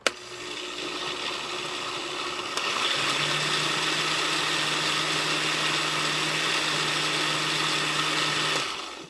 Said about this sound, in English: Just the way it's rotating in the blender, it keeps it really hot.